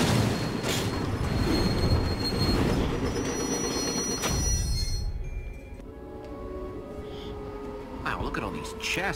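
Minecarts roll along rails in the video game Minecraft: Story Mode, giving a continuous rattling, clattering rumble with squealing wheels that eases toward the end, while voices talk over it.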